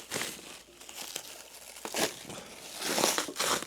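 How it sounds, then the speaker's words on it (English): Packaging peeled off a Boulder 3010 preamplifier, with close, crisp crinkling and tearing of plastic wrap in uneven bursts, louder toward the end. "So let's just unwrap the 3010."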